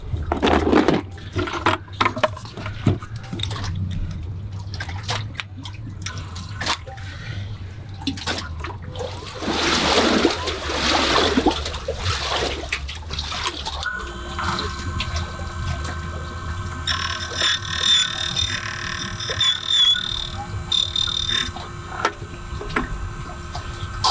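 A JMA Nomad Go battery-powered key machine cuts a boat key, giving a steady whirring motor hum with scraping grind and irregular rattling bursts, continuous and fairly loud up close.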